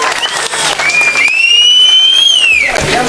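Applause from an outdoor village debate-show crowd in Tamil Nadu welcoming comedian Aranthangi Nisha, loud and steady for about three seconds, with a sustained whistle-like tone rising and falling over the clapping and some voices mixed in.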